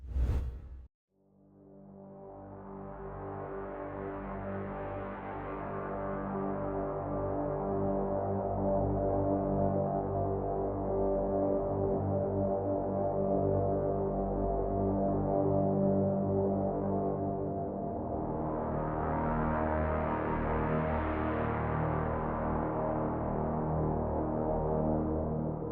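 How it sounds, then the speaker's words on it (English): Dark cinematic soundscape from the free Ephrys synth plugin: a dense, low, sustained drone layered with harmonic tones. It swells brighter near the start and again late, then holds steady and continuous with no voices. "This one leans more into the dark cinematic soundscape that's great for building tension."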